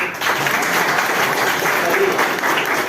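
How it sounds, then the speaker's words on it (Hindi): Steady applause from an audience of teachers, a dense wash of clapping filling the whole stretch at even loudness. "शिक्षक महोदय लोग अगर सही होगा तो थोड़ा सा ताली बजा दीजिए।"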